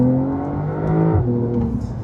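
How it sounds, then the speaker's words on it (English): A Porsche 911 Carrera 992 with a 3-litre twin-turbo flat-six at the rear revs loudly and steadily, the engine note rising then dipping and settling, close by with no talk. "We have a 3-liter twin-turbo flat 6 in the back, producing 358 horsepower, 450 Newton meters of torque, and it does this."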